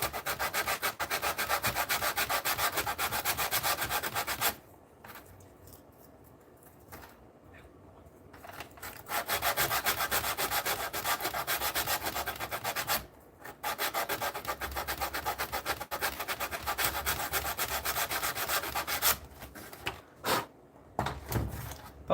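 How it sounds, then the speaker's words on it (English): Wood is sanded by hand in a basement workspace, a close, steady scratchy rubbing in long continuous passes, broken by a few short pauses. "Apologies if people don't like the sound of sanding."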